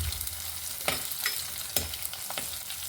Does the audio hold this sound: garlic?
yes